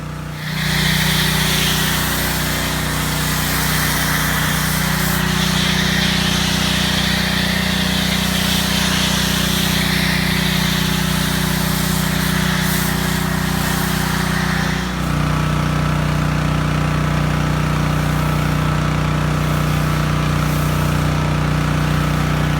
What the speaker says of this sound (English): the lance hooked up to a higher gas-powered pressure washer